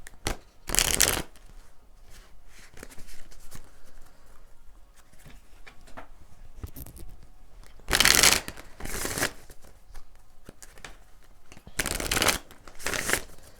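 Tarot cards being shuffled up close in three loud, riffling bursts separated by quieter handling and rustling.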